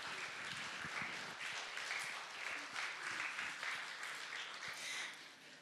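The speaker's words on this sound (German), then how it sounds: "Das ist ein Applaus wert" A crowd at a Christmas event in Seiffen applauds steadily, a dense wash of many hands clapping from a distance, holding fairly even before easing slightly at the end.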